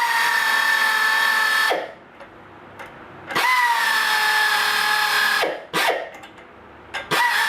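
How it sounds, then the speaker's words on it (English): A pneumatic air ratchet whines in two long bursts and a few short blips while tightening bolts on the steering of a 1998 Jeep Wrangler TJ, loud and close, with brief pauses between runs. "I'm lazy, so I'm going to use an air ratchet."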